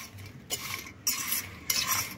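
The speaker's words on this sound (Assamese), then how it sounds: "এইটো মেছ কৰি লওঁ, মানে লগত মিহলাই লওঁ।" A spoon stirs and scrapes spicy potato fry in a pan while chaat masala is mixed in, three distinct scraping strokes with soft sizzling between them, close and clear.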